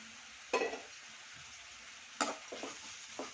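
Curry leaves dropped into hot oil with green chillies in a pan, giving a steady sizzle with a few sharp stirring scrapes and clinks against the pan, heard close and fairly quiet.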